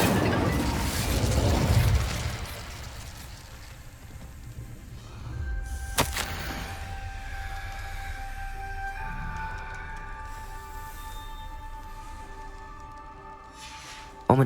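A fire spell cast in Hogwarts Legacy erupts in a loud burst and crackling roar, then a sharp bang near the middle gives way to a ringing, humming magical tone that lingers to the end.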